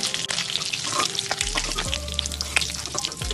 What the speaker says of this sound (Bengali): একটু উল্টে পাল্টে বেশ বাদামি বাদামি করে ভেজে নেব